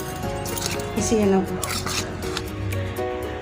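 A spoon scrapes and clinks in a bowl as soya chunks are mixed with Kashmiri chilli powder and soy sauce, soft irregular stirring close by, with someone talking over it.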